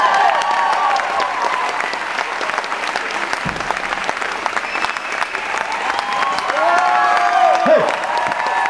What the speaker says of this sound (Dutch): Maak een groot applaus voor Nico Oudheid.